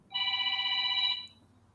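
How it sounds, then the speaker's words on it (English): A phone ringtone sounds once, a clear electronic tone of about a second with bright harmonics, close and fairly loud against a quiet background before fading out. "it was the same ringtone"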